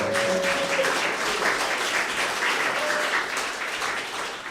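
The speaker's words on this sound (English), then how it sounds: "we definitely need to give a big round of applause to the East Side" An audience at an event applauds, a dense, steady wash of clapping that fills the space and tapers slightly toward the end, with no voices over it.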